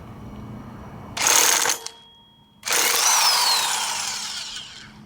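An impact driver on a scooter's CVT clutch fires two loud, close bursts, the first about half a second and the second a longer run of nearly two and a half seconds that gradually eases off.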